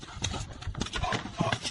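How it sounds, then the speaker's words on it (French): A horse gallops across dusty ground, hooves pounding in quick, uneven thuds close by, with a low voice speaking underneath. "Le cheval soulève un nuage de poussière aveuglant."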